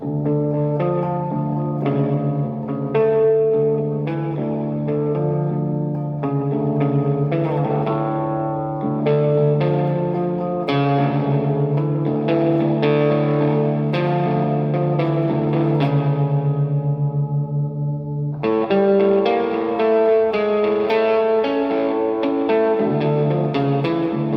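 Distorted Line 6 James Tyler Variax modeling electric guitar in drop D tuning playing heavy, low riffs with sustained chords and a short pause before the riffing resumes, no voices.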